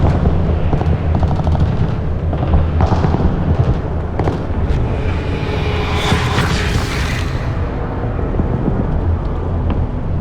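Heavy gunfire fills a battle scene in an animated FNAF movie. Loud, rapid bursts and booms pile up continuously, like rounds from several guns at once.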